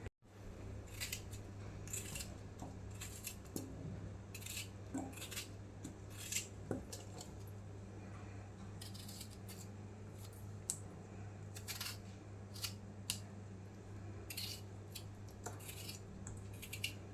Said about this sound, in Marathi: आता हे टमाटे कापून घालणार